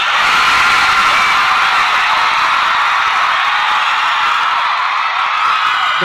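A huge crowd of Girls' Generation fans screams continuously at full volume at a K-pop event, a sustained high-pitched roar of shrieking with no break.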